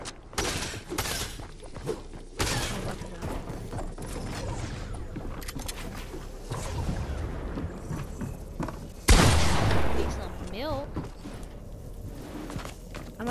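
Fortnite gunfire: scattered shots and impacts amid mechanical clatter and footsteps, with a loud blast near the middle followed by a rising tonal effect.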